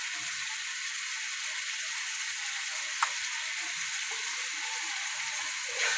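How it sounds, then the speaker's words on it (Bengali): Spices sizzle steadily in oil in a pan for a dhaba-style egg chicken tadka, a close, constant frying hiss with a faint clink partway through and no talking. "মশলাগুলো ভালো করে কষিয়ে নেব"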